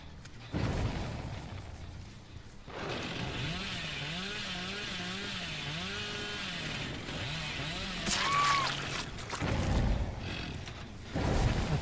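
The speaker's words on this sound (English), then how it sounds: "The exact same chainsaw attack as the last time." A roaring chainsaw attack in the horror game Dead by Daylight, a long revving, wavering motor drone that rises and falls for several seconds, followed by sharp impact sounds, with no speech.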